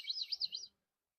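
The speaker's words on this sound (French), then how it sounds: "Allô, les petits oiseaux!" Young birds chirping close by, a quick cluster of faint, high, thin tweets lasting under a second before quiet.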